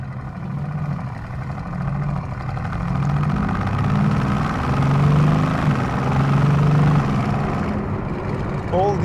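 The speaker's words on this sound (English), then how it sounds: "But wait for it until I turn on the sports exhaust." A 2016 Mercedes-AMG GT S runs with its sports exhaust switched on, giving a deep engine drone that swells and falls in pitch. It sounds fairly close and continuous.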